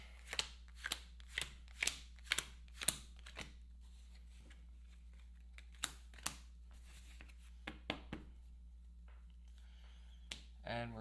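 Wingspan Asia board game cards being shuffled on a table, a run of sharp riffling bursts in quick succession followed by a few softer taps and a final riffle, close and fairly quiet.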